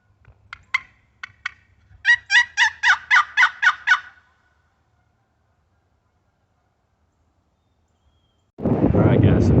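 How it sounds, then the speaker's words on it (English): A wild turkey gobbles in the open during Indiana spring season, a rapid rattling burst of about eight pulses after a few softer clucks, followed by silence and then a rush of wind noise on the microphone. "we did hear a gobbling turkey this morning"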